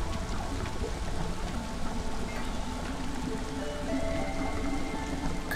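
Light drizzle from the video game Against the Storm, a steady soft patter of rain on surfaces with a faint hum beneath, continuous and even throughout.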